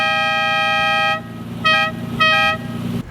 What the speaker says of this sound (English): Another one of the Countach's most ridiculous characteristics is its dinky little horn.